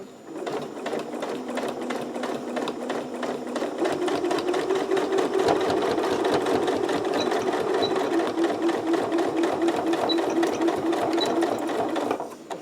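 A sewing machine runs a continuous fast stitch while sewing a zipper into a fabric pouch, a close, even mechanical chatter lasting about twelve seconds with no talking.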